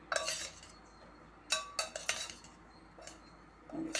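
Cooked dal is mixed with turmeric and chilli powder, a spoon scraping and clinking against the vessel in a few short bursts with quiet gaps between.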